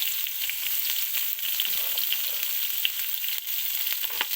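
Garlic and onion sauté in hot oil for a Filipino ginisa of banana heart and vegetables, giving a steady, close sizzle with light crackles and occasional stirring scrapes throughout, no talking.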